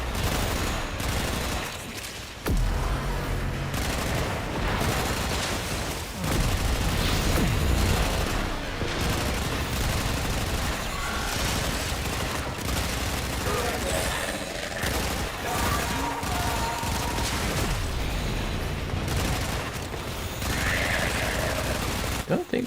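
Sustained, dense gunfire from shooting enemies in Warframe, with rapid bursts, heavy impacts and mechanical clatter filling the whole stretch, and a voice occasionally heard beneath the din.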